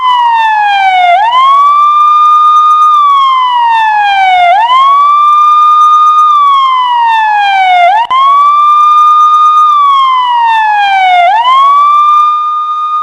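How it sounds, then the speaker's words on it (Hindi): Ambulance sirens wail in repeated rising and falling sweeps, loud and steady, with four full cycles and no voices over them. "पाकिस्तान में चारों तरफ एम्बुलेंस की आवाज और एम्बुलेंस के सायरन गूंज रहा था।"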